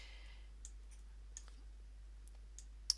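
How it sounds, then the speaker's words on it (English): Computer mouse buttons clicking softly several times, small sharp ticks spaced through a quiet room, with one louder final click. "Double clicking creates the link."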